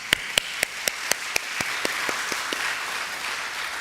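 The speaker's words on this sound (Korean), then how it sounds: "우리 하나님께 영광의 박수를 올려드립시다." A church congregation applauds together, starting with a few sharp, evenly spaced claps that blend into steady, fairly loud applause, with no speech over it.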